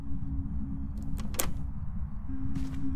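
Locked door being tried in a ghost hunting video game: a low steady hum under a couple of sharp rattling clunks as the handle is worked, close and clear with no talk.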